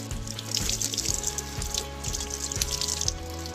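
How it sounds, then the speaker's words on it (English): Water runs steadily from a tap into a sink, a constant splashing rush with a low rhythmic pumping hum beneath it. "So first, you turn on the tap and you would wash your right hand 3 times"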